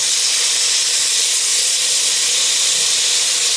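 Beef browns in a pot for Cuban ropa vieja, giving a loud, steady, dense sizzling hiss that continues without break.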